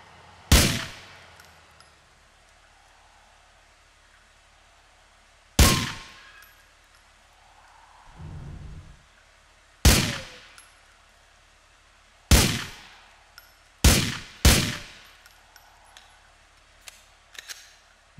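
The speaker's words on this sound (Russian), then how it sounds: "давайте сделаем несколько выстрелов" Several sharp, cracking gunshots in the video game GTA IV ring out one at a time with quiet gaps between them, two fired in quick succession near the end.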